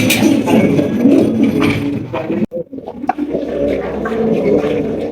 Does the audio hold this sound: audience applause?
no